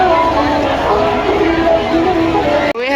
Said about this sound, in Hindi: आज बहुत ज़्यादा भीड़ है आप मन देख सकते हो।